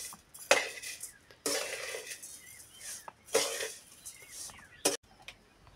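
A spoon scrapes and clinks against a pan while sugar is stirred into semolina sheera cooked in ghee, in several separate bursts of scraping with quiet gaps between them, close and fairly loud.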